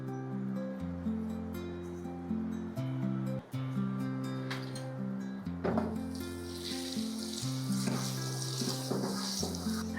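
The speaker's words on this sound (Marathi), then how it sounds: "त्यामध्ये लसूण, एकदम बारीक चिरलेला लसूण टाकायचा आहे." Finely chopped garlic and cumin seeds sizzling in hot oil for dal tadka, a steady close frying hiss with stirring clinks and scrapes, under soft background music.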